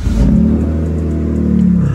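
A BMW E90 with the N52 engine starts and settles, a loud close engine rumble and exhaust note that holds steady, with no one talking.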